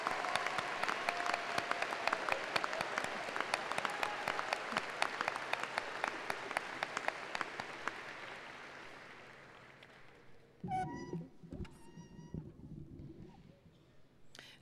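A graduation audience in a large arena applauding cum laude students, dense sustained clapping from a big crowd that fades over about ten seconds, followed by a few scattered claps and small noises in a quieter hall.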